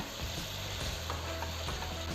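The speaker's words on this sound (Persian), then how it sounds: "1 دقیقه دیگه با جعفری تفتش میدم" Vegetables with parsley sizzle steadily in a hot pan, with soft scraping and stirring sounds throughout and no talking.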